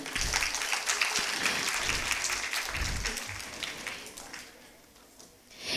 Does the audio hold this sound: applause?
yes